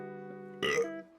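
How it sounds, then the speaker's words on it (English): A single short, faint human burp comes through after a moment of quiet room tone, with nobody speaking. "I got a burp."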